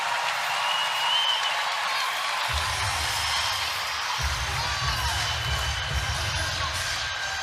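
A college women's volleyball crowd, Wisconsin against Minnesota, roars steadily in a packed arena late in a tied third set, loud and continuous with no break in the noise.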